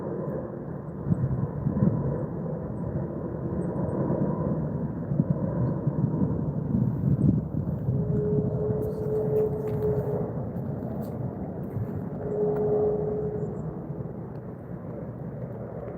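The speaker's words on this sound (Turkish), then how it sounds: "Bak kaç tane uçak geliyormuş böyle ya." Steady low roar of airplane engines passing overhead in the Arnavutköy forest, a continuous broad rumble with a faint whine rising midway, no voices.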